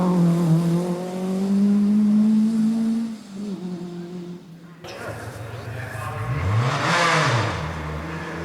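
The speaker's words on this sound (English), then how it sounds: "one of the 3 smallest Group B cars, the Citroën Visa" A Citroën Visa Group B rally car engine revs loudly and shifts pitch before cutting away to another car approaching and roaring past with a rising then falling sweep, at the 1986 RAC Rally.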